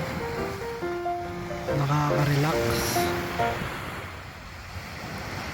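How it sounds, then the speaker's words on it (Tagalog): Ocean waves washing onto a beach at Nasugbu, Batangas, a steady surf roar with wind on the microphone, while someone talks and a tonal melody sounds over it. "Ang sarap pakinggan ng tunog ng dagat,"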